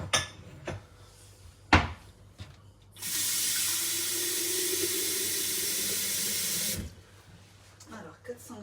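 Tap water runs steadily into a container for about four seconds while cooking steamed fried eggs, a loud continuous rush with a rising fill tone, framed by quieter kitchen handling before and after.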